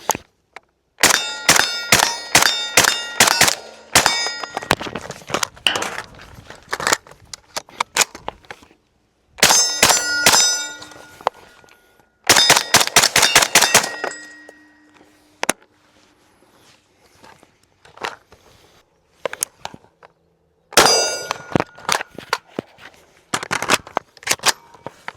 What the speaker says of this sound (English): we'll go ahead and get some rounds down range